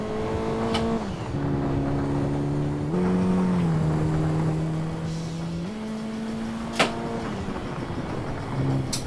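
Rally cars racing in the PlayStation game Gran Turismo 2, an engine revving up and dropping through gear changes with a steady whine, loud and close, with a brief sharp click near the end.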